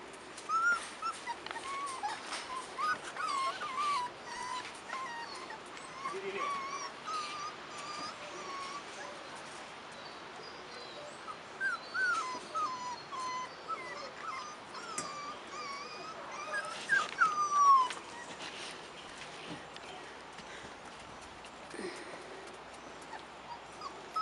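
Big dogs barking, yipping and whimpering at a moderate distance, with clusters of higher-pitched whines and intermittent yelps rising and falling throughout.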